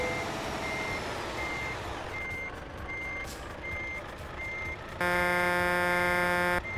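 Truck reversing beeps in Euro Truck Simulator 2, a steady evenly spaced series of electronic tones over engine rumble, joined near the end by a louder sustained buzzing horn-like tone.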